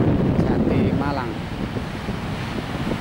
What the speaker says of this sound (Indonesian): ombak serta deburannya cukup besar dan menggelegar